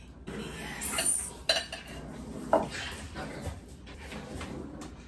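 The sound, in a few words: spoon digging into crispy baked mac and cheese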